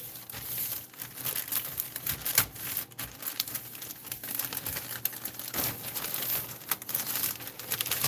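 A small plastic bag crinkles and rustles close by as a model aircraft canopy and parts are packed back into it and then into a second bag, with irregular crackling bursts running steadily throughout.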